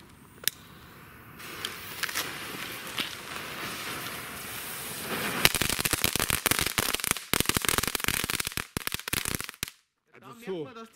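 Category 1 firecrackers from a Lesli Kool Krokodile set go off in a rapid string of sharp cracks and pops, starting with a few scattered bangs and building into a dense crackling burst, loud and close, then stopping.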